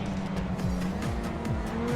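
A Ferrari supercar driving at speed past traffic in GTA 5, its engine note rising and falling through quick repeated revs and shifts, loud and close.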